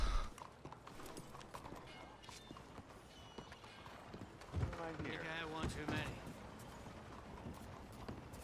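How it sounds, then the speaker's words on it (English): Irregular clip-clop of horse hooves in Red Dead Redemption 2 taps along throughout, with a short whinny and some creaking in the middle, fairly faint overall. "It's the horse."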